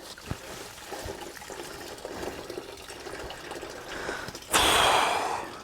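Water trickles into a container in a wooded spot, a soft, steady dribble that becomes a louder rushing gush near the end, with occasional light knocks and rustles.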